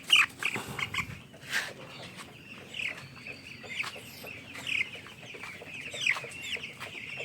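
Broiler chickens cluck and cheep intermittently while feeding on a newly made grower feed, a scattered flock of soft calls at moderate distance with a bit of background noise.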